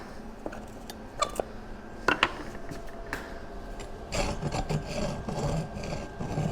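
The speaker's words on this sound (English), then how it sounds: "Just scrapes when I push it sideways. It's that bracket there" Metal bracket on a homemade motorized unicycle scraping and rubbing when the wheel is pushed sideways, a few sharp rasping scrapes and clicks followed by a steadier grinding rub, close and fairly quiet.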